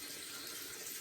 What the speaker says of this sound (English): just doing a moderate rinse of the brush here while my face dries out a little bit